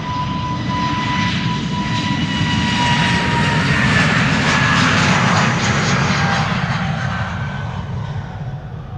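An easyJet Airbus A320neo bound for Southend departs Amsterdam Schiphol, its jet engines producing a loud, steady roar with a faint whine that builds slightly mid-way and then eases as it passes.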